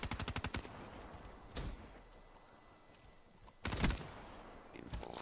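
Gunfire in the Black Ops 3 video game: a rapid automatic burst opens, followed by two heavier single blasts over a low, steady game background, with no talking.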